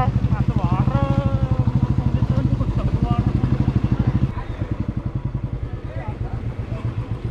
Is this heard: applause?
no